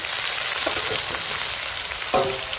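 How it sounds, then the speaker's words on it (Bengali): Drained chicken fries with ginger-garlic paste, tomato and capsicum in a hot pan, giving a steady loud sizzle with a brief stir and a louder burst near the end. "জল ঝরানো মাংস দিয়ে এখন দিয়ে দেবো আদা রসুন বাটা এখন দিয়ে দেবো টমেটো ক্যাপসিকাম"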